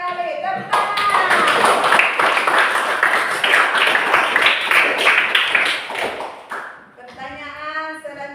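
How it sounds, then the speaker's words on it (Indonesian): Schoolchildren clapping together in a classroom during a religious lesson, a rapid, loud, dense run of claps lasting several seconds before fading, with voices singing or chanting at the start and end. "Tepuk tangan"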